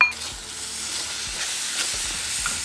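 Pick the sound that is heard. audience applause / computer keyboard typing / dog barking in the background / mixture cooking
mixture cooking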